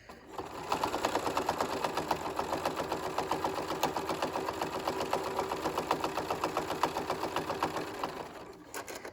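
A sewing machine stitches a zipper pouch in a steady, fast, continuous run of needle strokes, close and even, stopping abruptly at the end.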